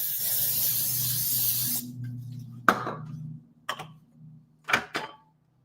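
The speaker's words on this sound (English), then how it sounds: "Going to be using a little bit of cooking spray." A steady cooking spray hisses into a pan over medium heat for nearly two seconds, then stops, followed by a few short clicks and taps of the pan, close and fairly loud.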